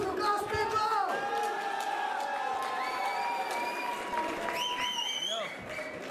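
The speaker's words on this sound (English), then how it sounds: "a round of applause for Glass Pimple!" A crowd at a fight night event applauds and cheers, with whoops and shouts over steady clapping lasting throughout; voices call out on top of it.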